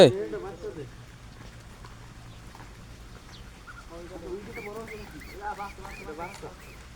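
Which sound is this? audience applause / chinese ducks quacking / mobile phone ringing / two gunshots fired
chinese ducks quacking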